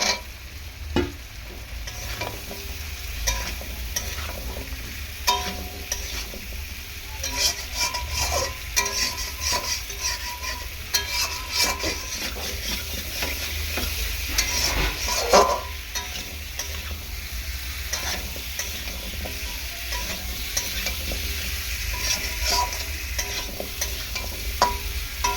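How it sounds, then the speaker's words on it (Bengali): Potatoes are stirred and sautéed in a frying pan, giving a continuous close sizzle broken by scraping and clinking of a spatula against the pan, with no talking. "তো আলুটাকে ভালো করে এরকমভাবে কষিয়ে নেব।"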